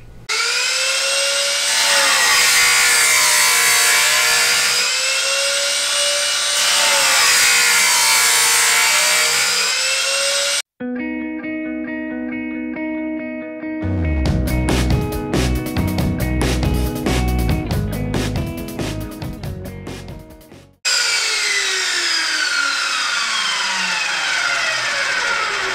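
A saw cuts slices into aluminum hat section for a P-51 Mustang windshield, loud sustained whining and grinding with changing pitch, broken by short pauses and a stretch of harsh rhythmic rasping, no talk.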